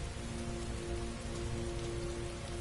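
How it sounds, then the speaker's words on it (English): Heavy rain pouring steadily in the video game Heavy Rain, a dense, even hiss of falling water with a faint low tonal hum beneath, continuous and unbroken. "Heavy rain. It's been the same for weeks."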